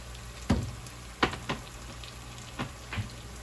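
Chopped onions frying in oil with garlic spice mix for Ethiopian tuna macaroni, a quiet steady sizzle broken by a few soft stirring scrapes spaced through the clip.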